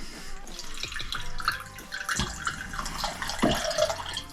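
A best bitter beer, amber in colour, pours into a glass with a steady liquid splashing and trickling that builds toward the end, close and fairly loud, with no talking over it.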